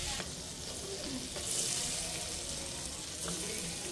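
Butter sizzling in a pan at the start of a white sauce pasta, a steady soft frying hiss lasting throughout with faint kitchen clatter and no talk.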